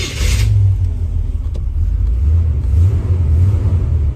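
A Chevy 350 V8 in a Corvette C3 rumbles steadily at fast idle, a loud, close, continuous low drone after a brief hiss at the start, with no talk over it.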